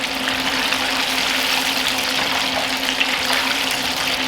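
Battered salt and pepper chicken wings fry in super hot oil, giving a loud, steady, close sizzling hiss that runs unbroken with no talking.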